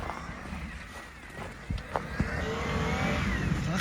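A car engine revs and strains on a rough mountain road toward Roshka in Khevsureti, a steady close drone rising in loudness with a few sharp knocks and clatters along the way.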